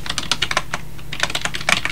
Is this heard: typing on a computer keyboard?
yes